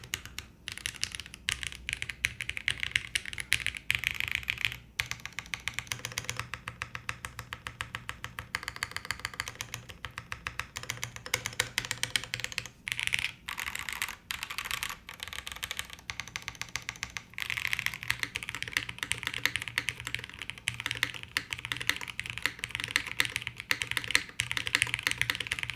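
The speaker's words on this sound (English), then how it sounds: "So I think the typing experience, like the sound is super attractive." Rapid, continuous typing on a full-size custom mechanical keyboard, the Bina 103, close-up crisp clacks in a steady stream with occasional brief pauses.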